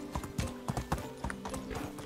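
Horse hooves clip-clopping at a steady riding pace in the video game Medieval Dynasty, a fairly quiet, regular stream of hoof strikes with no talk over them.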